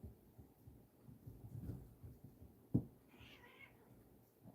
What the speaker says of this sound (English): My cats are meowing loudly at each other.